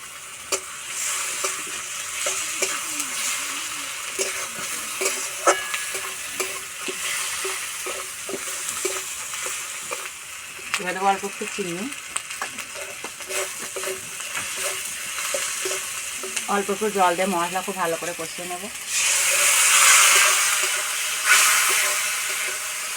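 Ginger-garlic paste and ground spices sizzle and hiss steadily in a frying pan for a rohu fish curry, with stirring scrapes throughout and a louder burst of sizzling near the end; no talking.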